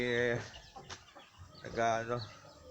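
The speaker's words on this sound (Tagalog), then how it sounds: "makikita nyo yung aking mga alagang manok tsaka itik sila" Chickens cluck and squawk close by in a short burst among ducks at feeding time, with a couple of louder calls amid faint farmyard background.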